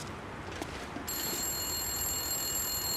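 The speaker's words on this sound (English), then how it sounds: "Is that the phone?" Telephone ringing in the game Wintermute: after a second of quiet ambience a steady electronic ring tone starts and holds, moderately loud, with no talk.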